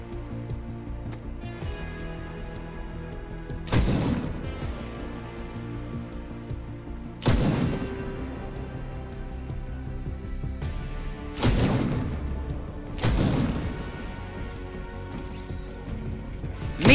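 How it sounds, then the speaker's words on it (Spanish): Shots from the scoped revolver in the video game Fortnite ring out one at a time, four loud, sharp cracks several seconds apart over steady game background sound. "el nuevo revólver con mira es capaz de hacer un disparo colateral"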